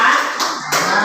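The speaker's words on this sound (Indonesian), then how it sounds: "Tepuk tangan." Brief clapping from a classroom group, close and loud, with the dense patter dipping and swelling in short bursts.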